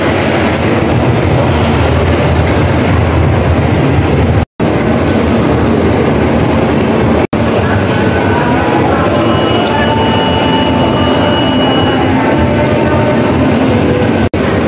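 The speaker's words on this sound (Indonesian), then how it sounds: "akhirnya ketemu juga dengan KLIA Express dan KLIA Transit." A KLIA Transit train at a station in Malaysia gives a loud, continuous rumble and rail roar that sounds close and enclosed, with two brief dropouts, and people speak faintly underneath.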